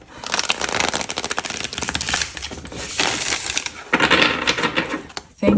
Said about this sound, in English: Anyway, let's shuffle.